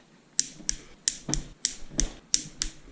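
Sharp mechanical clicks of a torque wrench during a Suzuki DRZ engine rebuild, about eight in a quick uneven series, close and crisp against a quiet background.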